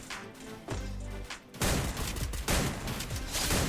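Rapid gunfire from a gun in the battle-royale video game Free Fire, a dense loud burst of repeated shots that starts after a brief lull and keeps up in close bursts to the end, with no speech over it.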